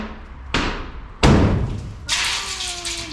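Several sharp impacts on a tempered, film-covered glass window of a Mercedes 403 bus camper, two heavy thuds, then a crack with a brief tinkling shatter and a ringing tone trailing after.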